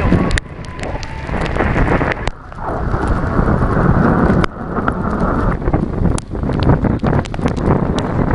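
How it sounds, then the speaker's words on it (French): Heavy rain pours down in a dense, steady roar during the 2011 Ko Phangan flood, Thailand, with gusts buffeting the microphone and low rumbles underneath; no voices. "Ça fait plus de 15 jours que la pluie tombe sans s'arrêter."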